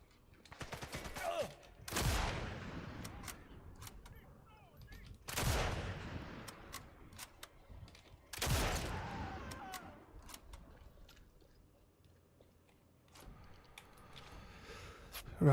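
Heavy gunfire from Sniper Elite: Resistance, with three loud rifle shots spaced a few seconds apart, each booming and then echoing out, plus scattered smaller bursts and clatter between them.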